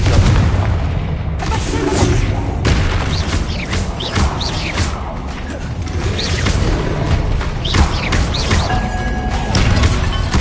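Confringo spell blasts in Hogwarts Legacy fill a chaotic fight with a dense, loud stream of booming impacts, crashes and magical whooshes that run without a break.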